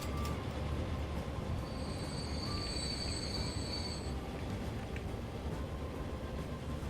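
Trains run in the Transport Fever simulation game, giving a dense continuous rumble with a high squealing wheel tone in the middle, heard alone without talk.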